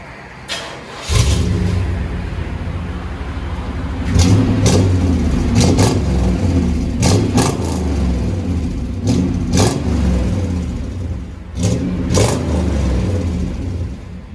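A 1998 Chevy Tahoe two-door with a 5.7L V8 and true dual Magnaflow exhaust, revved hard in a series of sharp throttle blips over a steady, rumbling idle, loud and close with no talking.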